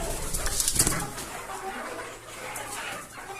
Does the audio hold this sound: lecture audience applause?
no